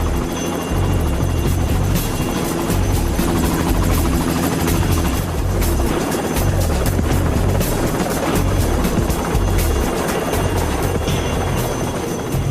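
Loud, steady helicopter rotor roar with heavy low thumping and rushing downdraft wind noise, continuous and close throughout.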